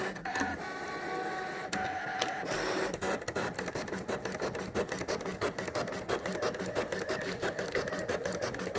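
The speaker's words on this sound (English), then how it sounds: "So now it's cutting for the second time, and it'll do it exactly the same place" A cutting machine makes a second pass through 1 mil material, a continuous mechanical buzzing and rasping with rapid rhythmic ticks of the moving head, steady and fairly close throughout.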